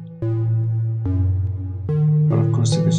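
A sine-wave oscillator patch in VCV Rack modular synth software, shaped by an ADSR envelope, plays a short sequence of four sustained electronic notes, each starting abruptly, the last overlaid with bright chirping blips.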